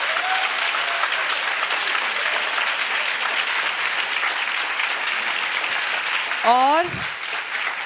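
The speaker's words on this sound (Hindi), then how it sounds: "ज़ोरदार तालियां बजाओ।" An audience gives loud, sustained applause at a motivational talk, filling the room for several seconds; near the end someone briefly speaks over the clapping as it continues.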